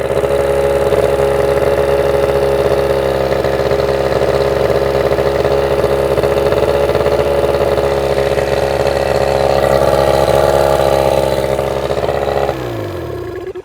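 An old Yamaha outboard motor, left sitting for years, runs at a steady, loud idle close by with a constant drone, then cuts off abruptly at the end.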